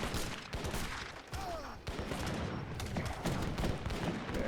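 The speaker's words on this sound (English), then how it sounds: "Decent amount of mortars by Lady." Mortar fire in an Age of Empires III match, heard as a dense, continuous barrage of overlapping booms and gunfire-like cracks at steady loudness throughout.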